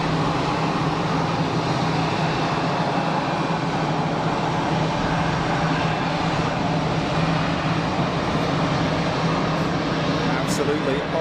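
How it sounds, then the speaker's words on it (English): An airliner touching down at Geneva Airport and braking under reverse thrust, a sustained heavy jet roar with someone talking over it. "Nice early touchdown. On the reversers, on the brakes."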